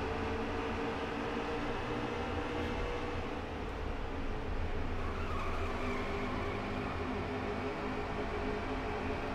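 Racing trucks in a video game race at Iowa roar past in a steady, continuous wash of engine noise, fairly faint and blended together without a distinct single pass-by.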